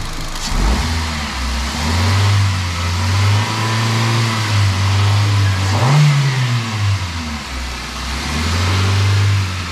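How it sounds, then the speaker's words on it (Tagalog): A car engine is revved repeatedly during an air-conditioning compressor check, with loud, close, sustained rises and falls in pitch and a brief dip to idle between revs. "tingin mo ang rev niya Jer."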